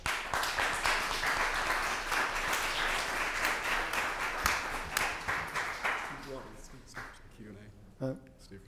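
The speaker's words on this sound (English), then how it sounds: "Another resounding applause for Marc T. Little." Applause from a leadership conference audience after a speech, steady clapping that thins and fades toward the end as a voice begins speaking over it.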